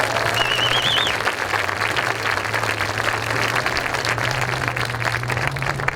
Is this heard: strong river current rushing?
no